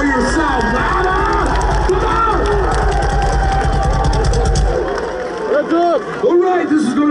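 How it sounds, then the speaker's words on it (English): A festival crowd roars and cheers at a Lamb of God metal set at Rock on the Range 2016, a loud, dense wash of voices over a low rumble that drops away near the end, leaving scattered shouts. "give yourself a big round of applause"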